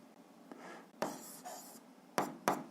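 Pen on paper writes a short equation during a physics lesson, giving soft scratchy strokes in several quick bursts, quiet and close, with no talking.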